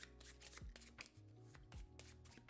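Playing cards being shuffled during a solo tabletop game of Critter Kitchen, with a few soft riffles and flutters and light riffle bursts, quiet and close.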